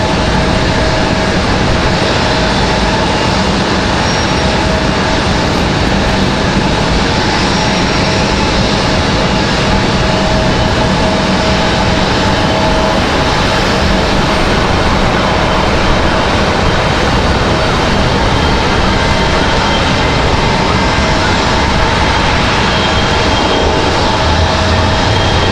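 Loud, unbroken roar of a Delta airliner's engines from Detroit on the runway at Raleigh-Durham International Airport, with a steady tonal whine over the rumble for the whole stretch and no talk.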